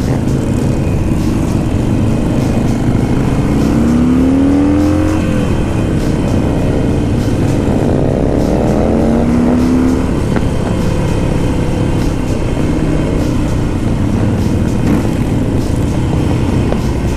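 Many Harley-Davidson motorcycles ride together on the Silverstone circuit, a loud, continuous engine roar with rising and falling revving as bikes pass close by, no talking.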